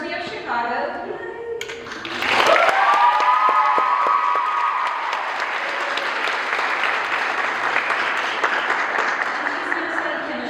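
Applause and cheering from an audience welcoming a senior student to the stage at a school distinction presentation, rising abruptly after a moment of talk and continuing as a dense, steady wash of clapping with a few whoops.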